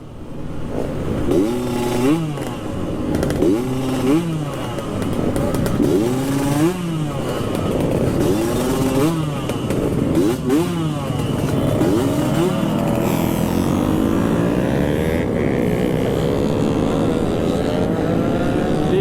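Yamaha RX King two-stroke motorcycle at a street meetup in Makassar revs repeatedly in sharp rising bursts, close and loud, then settles into a sustained high buzzing drone.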